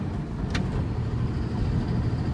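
A 2007 Dodge Ram pickup truck with an inline six and manual transmission cruises under power, its steady low engine hum and road noise heard from the cabin, with a brief click early on and no talking.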